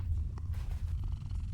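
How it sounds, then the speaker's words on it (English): A cat in the video game Mortal Shell purrs while being petted: a low, continuous rumbling purr, close and steady, throughout the short moment. "You can pet the cat."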